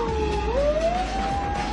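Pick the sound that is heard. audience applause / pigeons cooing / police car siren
police car siren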